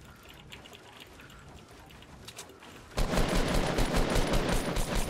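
Fortnite Battle Royale gunfire, quiet and scattered at first before a loud, sustained burst of rapid shots takes over the second half, with voices talking now and then.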